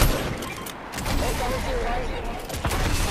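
Fortnite video game gunfire, sustained rattling shots at moderate loudness with a busy game soundscape and people talking over it.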